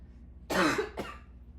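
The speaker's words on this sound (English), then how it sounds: "Can't shake this cough." A person coughs twice, a strong harsh cough followed by a shorter second one, close and alone over a quiet room background.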